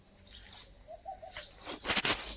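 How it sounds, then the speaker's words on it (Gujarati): A few short, faint bird chirps and calls sound in quiet morning surroundings after heavy overnight rain in Chobari, scattered and brief. "પક્ષીઓનો કલબલાટનો અવાજ એકદમ સુંદર અવાજ આવે છે"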